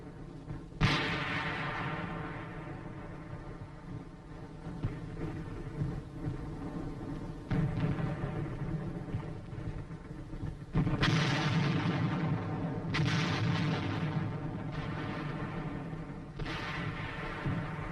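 Heavy 4.2-inch mortar company firing a continuous bombardment in the assault on Hill 1179, with loud booming blasts landing every few seconds over a constant rumbling background of battle.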